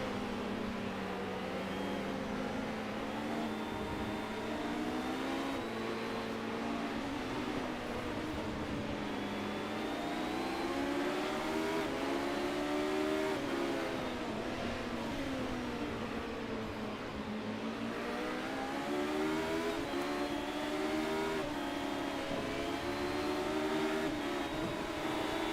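Race car engines drone together at the start of an iRacing sim race, a steady layered whine rising and falling in pitch as the pack accelerates, continuous throughout.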